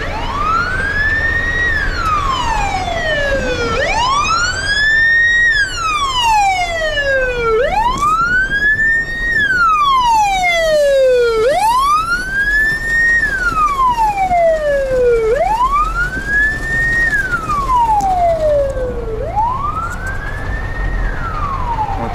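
An ambulance siren wails, sweeping up and down in repeated long cycles, loud and steady throughout, as the ambulance passes close by.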